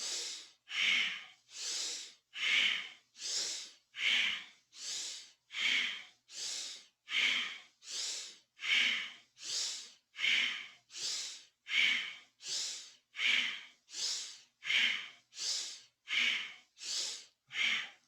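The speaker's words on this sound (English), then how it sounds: "Okay, and breathe powerfully. Inhaling forward and up, and exhaling back. Powerful breath." Powerful rhythmic breath of fire style breathing during a Kundalini yoga exercise: about two dozen strong, breathy inhales and exhales in a steady even rhythm, close and loud, alone without talk.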